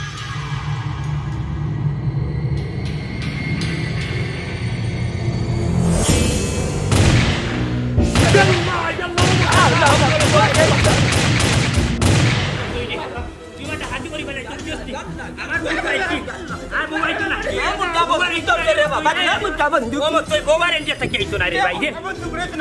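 Bursts of gunfire ring out in a Sylheti drama scene, several loud shots and volleys in quick succession amid voices and a crowd babble that continues after the shooting.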